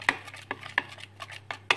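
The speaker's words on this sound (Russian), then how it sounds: "Теперь все это перемешиваем." Rapeseed oil and salad being stirred in a bowl, with a series of light clinking and scraping knocks of a utensil against the dish at an irregular rhythm, close and fairly quiet.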